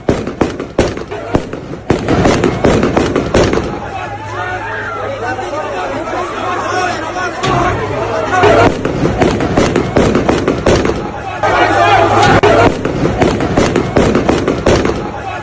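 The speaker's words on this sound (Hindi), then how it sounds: "एयरपोर्ट पर एक के बाद एक कई राउंड की फायरिंग हो रही है" Several rounds of gunfire at Kabul airport, sharp repeated bangs in bursts, fairly loud and somewhat distant, mixed with a crowd's chatter and voices throughout.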